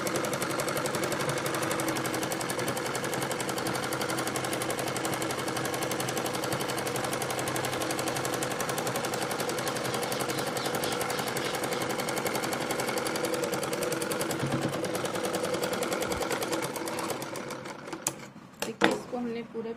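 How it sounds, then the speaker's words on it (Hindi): A sewing machine runs steadily and loudly, stitching the second leg seam of a palazzo, a continuous rapid whir that stops near the end, followed by a few handling clicks. "अब सेम इसी तरीके से हमें दूसरे पैर की तरफ से सिल के लेके आना है।"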